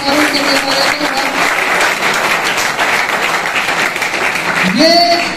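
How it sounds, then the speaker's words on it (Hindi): Seminar attendees applaud to welcome new members, a sustained, loud wash of clapping from a crowd, with a voice talking over it and a rising tone near the end. "ये ताली आरसीएम वालों की थी"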